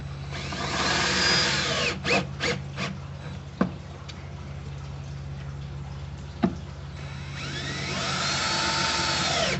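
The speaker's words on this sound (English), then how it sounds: "we get our screws and our drill, and we'll give it a good screw in" A power drill drives screws into a wooden vivarium, several short whirring bursts near the start and two sharp clicks later, then a longer steady whir toward the end, with no talk.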